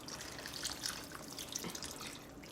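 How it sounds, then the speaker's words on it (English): Water pours steadily into a pot, two cups' worth for a one-pot cheesy taco pasta, a faint continuous splashing trickle heard alone throughout. "we're going to add 2 cups of water."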